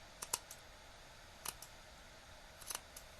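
Scissors snipping through yarn strands of a knitted swatch, a few quiet, crisp clicks in short clusters, close by and otherwise near silent.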